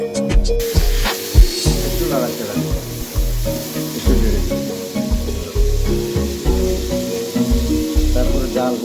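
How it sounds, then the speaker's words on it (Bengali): Chicken pieces fry in hot oil in a home kitchen, a steady loud sizzle broken by repeated knocks and scrapes of stirring and turning, with no talk over it. "তেল দিয়ে তারপরে লাড়াচাড়া করে 2 পাশ ভাজা হয়ে গেলে হালকা"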